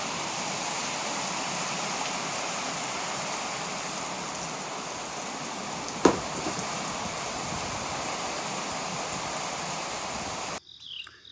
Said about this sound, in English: It start raining on you?